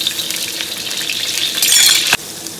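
Eggs frying in hot oil in a pan for fried rice, a steady bright sizzle that surges louder near the end, then a sharp clink as it drops back to a softer crackle.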